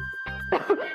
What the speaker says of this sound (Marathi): अचानक एवढा खोकला सुरू कसा झाला?